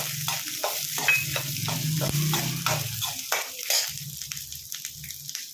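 Onions and dry red chillies frying in a pan, steady close sizzling broken by repeated scraping stirs of a spoon against the pan.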